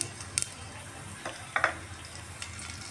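Whole garam masala hits hot mustard oil in a pan, giving a quiet, steady sizzle broken by a few sharp crackles and pops.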